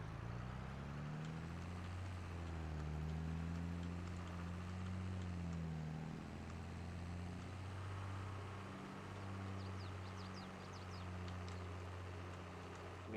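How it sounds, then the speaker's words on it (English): Two John Deere tractors, one a 4755, run steadily at a farm during grass baling for silage, giving a continuous low engine drone with a deep harmonic hum, fairly close and loud, with no talking. "Man, these 2 tractors are so cool."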